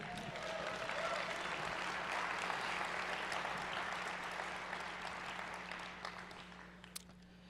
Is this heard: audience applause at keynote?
yes